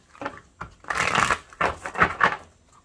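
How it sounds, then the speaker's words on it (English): Tarot cards are riffled and shuffled by hand in several quick, papery bursts, close and crisp with short pauses between. "let me just shuffle a few more times"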